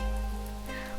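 Rain falls steadily, a soft continuous patter and hiss with faint scattered drops, fairly quiet and with no voices.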